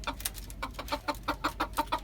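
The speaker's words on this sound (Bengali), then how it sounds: "এই তো ধরে ফেললাম দেশি মোরগকে, খুব দুষ্ট।" A desi rooster on a rooftop clucks in quick, rhythmic bursts while being caught, loud and close, with a steady pulse of calls and no speech.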